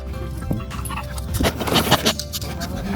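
Dogs at an animal rescue bark, yip and whimper, with several close excited bursts piling up over a noisy background.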